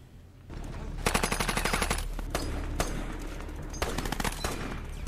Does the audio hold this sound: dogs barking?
no